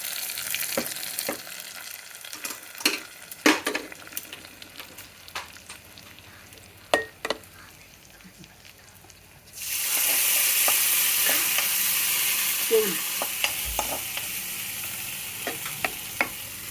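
Tempering for bachali leaf dal: scattered clicks and taps of a spoon in a pan, then a sudden loud burst of sizzling as the hot seasoning hits, hissing steadily to the end with occasional clinks.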